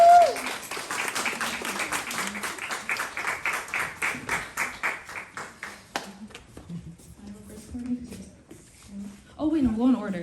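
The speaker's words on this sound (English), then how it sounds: "let's give them a round of applause" Audience applause for a group of art fellows at an art and activism centre event, a steady patter of clapping hands for about six seconds that thins to scattered claps under nearby chatter and talk.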